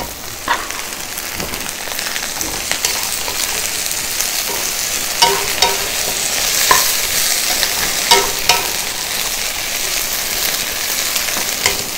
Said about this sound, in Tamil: இப்போ இந்த வெங்காயம் பாருங்கள் பாதி வதங்கிடுச்சு. இதோட இந்த வெண்டைக்காய் சேர்த்துக்கிறேன்